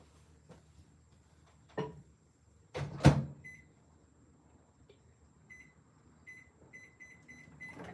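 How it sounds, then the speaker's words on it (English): A microwave oven briefly heats hot chocolate powder, giving a low steady hum with a clunk of the door and a series of short, clear electronic beeps near the end, fairly quiet in a still kitchen. "I think I'm gonna stick this in the microwave, just lightly heat this up a little bit."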